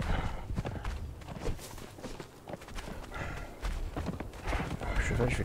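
Horse hooves clip-clop over uneven ground in the video game Conan Exiles, an irregular, moderately close rhythm of soft strikes, mixed with other faint game sounds and some background speech.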